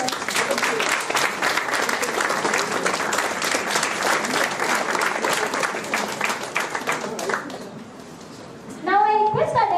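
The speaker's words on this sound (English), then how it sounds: "Please give a big round of applause." An audience at a prize ceremony during a startup incubation talk breaks into a loud, dense round of applause for several seconds that thins out and fades, followed by a voice speaking.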